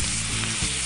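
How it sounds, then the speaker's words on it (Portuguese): A filet steak searing in a very hot pan, a loud, dense, continuous sizzle heard up close with no voices. "Deixa ele selar primeiro."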